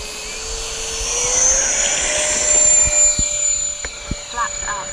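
A large RC business jet, the X-Fly J-65, taking off with flaps set, its turbine whine rising loud and steady, then easing as it moves away.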